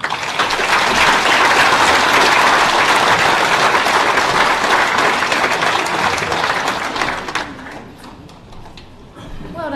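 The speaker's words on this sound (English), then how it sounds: "Everybody give them a round of" A large crowd claps loudly and steadily, the applause fading toward the end.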